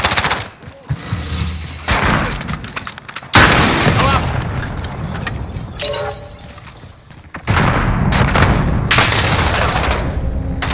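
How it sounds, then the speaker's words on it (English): Loud, dense combat in Call of Duty Modern Warfare, with a grenade explosion among sharp repeated gunfire bursts and booms, close and constant, with brief callouts over the action. "Grenade out!"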